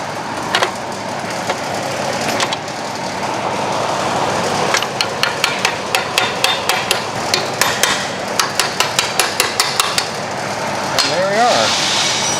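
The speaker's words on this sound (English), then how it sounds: "Use my bolt to push my slave pin out." A bolt is hammered against a slave pin on a Peterbilt 389 truck to drive it out, giving a fast run of sharp metallic blows over a steady engine-like background hum. The blows grow more frequent toward the middle.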